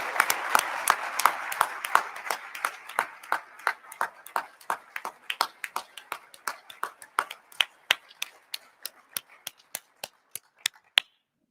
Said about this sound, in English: so we could give you a special round of applause